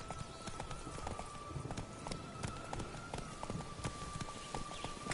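Geralt's horse Roach galloping in The Witcher video game, rhythmic clip-clop of hooves pounding steadily at a fast pace, fairly close with faint background ambience.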